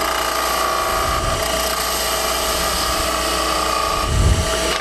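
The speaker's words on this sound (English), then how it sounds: "Then I use a spindle gouge." A spindle gouge cuts a bead into spinning wood on a lathe, giving a steady, loud whirring scrape that runs unbroken, with a heavier rumble near the end.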